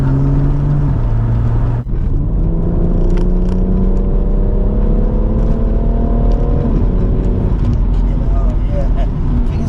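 A 3-litre straight-six rear-wheel-drive BMW M140i pulls hard through the revs, the engine note climbing steadily with a brief break as a gear changes, heard loud from inside the car.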